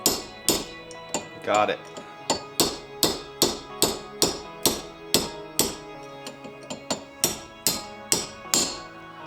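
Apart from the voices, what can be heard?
hammering on Toyota W56 manual transmission parts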